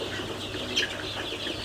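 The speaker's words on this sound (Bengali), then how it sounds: "এগুলো অরিজিনাল মিশরি ফার্মি মুরগির বাচ্চা এবং টাইগার মুরগির" Egyptian Fayoumi and Tiger chicken chicks peep faintly in a dense, steady chorus on a farm, with one brief, slightly clearer chirp rising above the low background hiss.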